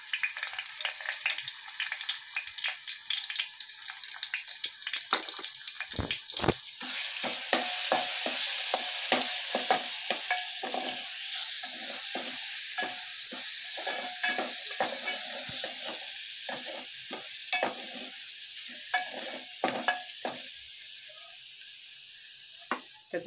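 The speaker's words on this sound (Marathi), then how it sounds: "त्याच्यात मी लसूण मिरचीचा हा ठेचा टाकते" Crushed garlic and green chili paste hits hot oil in a pan with a loud burst of sizzling, then keeps frying steadily and close, with scraping stirs throughout and no talk.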